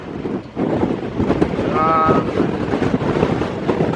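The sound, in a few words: wind blowing on a blustery hillside day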